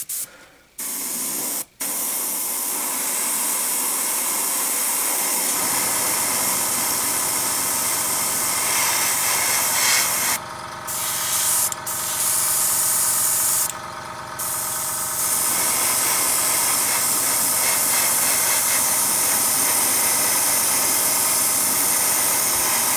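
An airbrush sprays Testors acrylic paint in a long continuous hiss lasting most of the stretch, close and steady, with a few brief stops where the trigger is released before spraying resumes.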